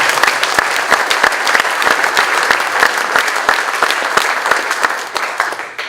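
Steady, close audience applause at a community conversation event about water rights, many hands clapping densely and evenly throughout before tapering slightly at the end.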